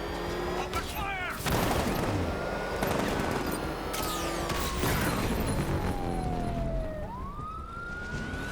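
Batman: Arkham Knight gunfire, with sharp bursts of shots amid wailing police sirens and a busy street battle. Voices are heard in between.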